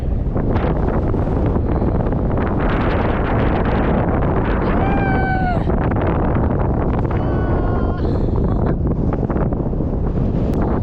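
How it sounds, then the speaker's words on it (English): Strong wind roars and buffets the microphone continuously on a high spot in Idaho, loud and unbroken, with a faint distant tone briefly audible beneath. "It's nice and windy up here."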